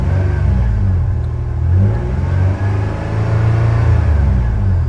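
A car engine idles loud and close with a deep steady rumble, swelling in two brief revs while a scan tool monitors it, with no voices.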